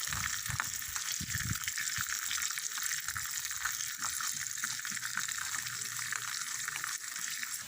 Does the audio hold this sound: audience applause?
no